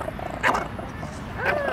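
A small dog gives a couple of short yips and barks while playing on a lawn, close by and brief.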